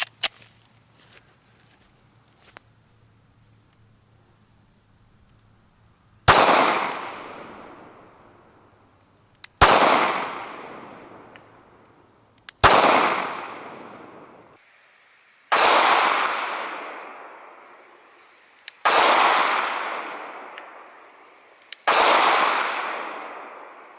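Six loud pistol shots from a Glock 43 subcompact crack at an outdoor range, evenly spaced about three seconds apart, each sharp report trailing into a fading echo.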